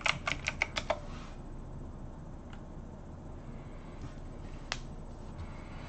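A password is typed on a computer keyboard: a quick run of about six crisp key clicks at the start, then a near-silent hum with a couple of isolated taps later on.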